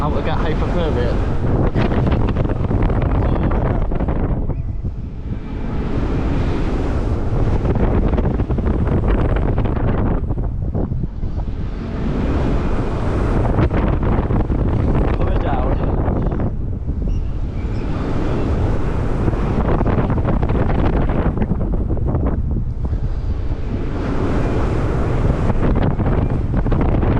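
Strong wind buffets the microphone outdoors at a Flamingo Land theme park near the car park in April, a loud continuous low roar that swells and eases in gusts for the whole stretch, with speech faintly mixed in.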